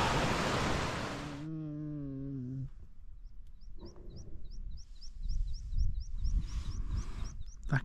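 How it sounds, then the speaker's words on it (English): A small, exhausted dog groans on a hike along the Pennine Way: a drawn-out, low moaning groan follows a rush of wind, with faint birds chirping repeatedly in the background afterward. "That groaning and noise you just heard was this little dog."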